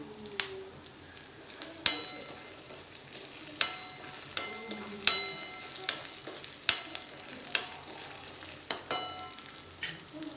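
Green chilies roast in a pan for appam with a soft, steady sizzle, broken by sharp pops and crackles at irregular moments and occasional stirring clinks, with no talking.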